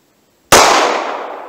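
One loud, sharp gunshot from a snub nose .38 Special revolver firing Monarch JHP ammunition, a sudden crack followed by a short fading outdoor echo.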